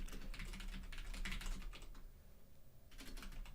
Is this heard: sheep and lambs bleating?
no